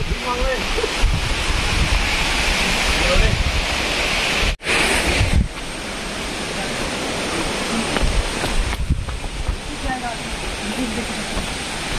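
Water rushes at Chirchiri Waterfall in a steady, loud roar that fills the whole stretch, with a brief dip near the middle and faint voices mixed in.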